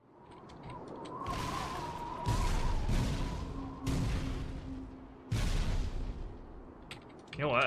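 Explosions in Halo 2, a rebalance mod with Engineer effects under development: several heavy, booming blasts land one after another over a steady rumbling backdrop, each burst loud and close.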